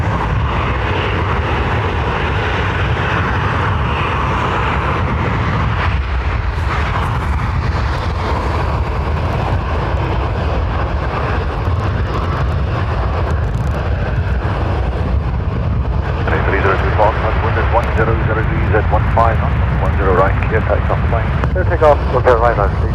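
A fixed-wing airliner on its takeoff roll from runway 10R at Dublin Airport, a steady loud jet roar that swells and rumbles throughout, with voices talking over it.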